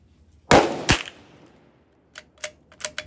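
Gunshots fired at a row of seven targets, two sharp, loud, close cracks about half a second apart, then after a pause a few fainter, quick metallic hits in an uneven rhythm, with no talk.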